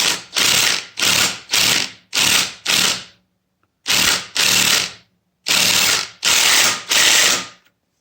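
A ratchet tightens a bolt during a Honda engine swap, sounding as loud, close bursts of rapid clicking in repeated strokes, with short pauses between sets.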